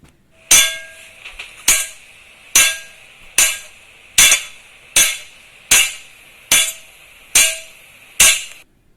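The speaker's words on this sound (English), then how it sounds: "Again, strike the disc and touch it." A metal disc is struck again and again during a science class activity. Ten sharp, ringing clangs come at an even pace about a second apart, each decaying quickly, with no talking.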